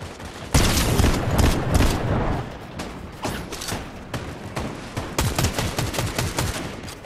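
Rapid bursts of shotgun and gunfire in a Fortnite-style battle royale video game, loud and dense, with repeated sharp blasts clustering near the start and again toward the end.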